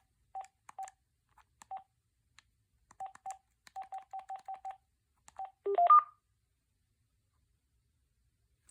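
Keypad tones as a number is entered on an AT&T E6014B color-display cordless phone: a string of short, clear beeps in an uneven tapping rhythm, then a brief cluster of higher confirmation tones, with no talking.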